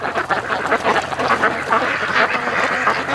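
A flock of agitated ducks quacks continuously by a lake during courting, overlapping calls forming a busy, fairly loud chorus with no pauses.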